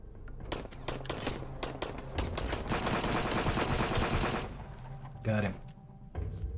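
Dense automatic gunfire from a gun in the survival video game Sunkenland, a sustained rattling burst of rapid shots with scattered single shots before and after, loud and close, with someone talking over parts of it.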